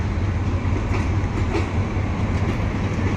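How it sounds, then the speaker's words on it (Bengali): A Bangladesh Railway train, the Lalmoni service between Dhaka, Rangpur and Kurigram, rumbles steadily as it pulls away, a constant loud low roar of wheels and carriages with faint clatter and no voices. "এই ট্রেনটি ছেড়ে চলে যাচ্ছে"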